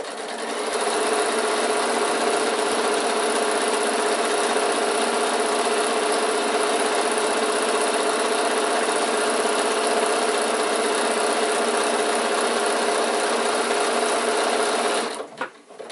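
A sewing machine runs steadily, stitching down the side of a handle for an insulated picnic bag, a loud continuous high-speed whir that stops abruptly at the end.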